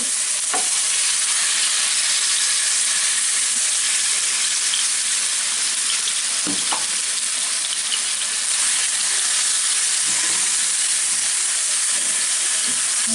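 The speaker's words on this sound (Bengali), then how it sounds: "এগুলাকে একটু ভেজে নিই এখনও তেলটা যথেষ্ট গরম আছে" Chicken pieces frying in hot oil in a pan for chicken vegetable rolls: a loud, continuous close sizzle and hiss with occasional stirring scrapes and clicks, no talking.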